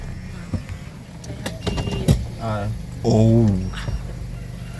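A car driving along a road in Kenya toward a village in Kisii, heard from inside as a steady low road and engine rumble beneath people talking close by.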